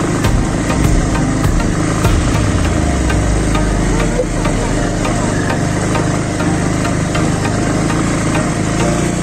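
A motorbike carrying several passengers runs over a rough, unfinished road near a waterfall eco village, its engine a loud, steady, vibrating drone with rattling bumps throughout, and a voice occasionally heard over it.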